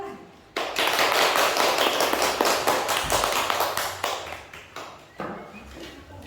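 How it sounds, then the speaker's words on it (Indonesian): Audience applause at a school event, a dense burst of hand claps that starts abruptly, holds for several seconds, then thins out into scattered claps with a late brief swell. "Tepuk tangan."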